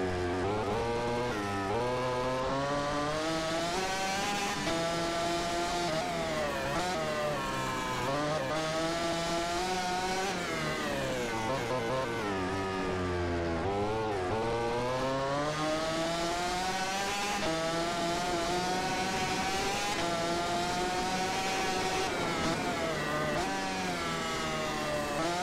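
Simulated racing motorcycle engine in the MotoGP 15 video game, a continuous high-pitched howl rising and falling through gear shifts and revs, loud and steady throughout with no talk.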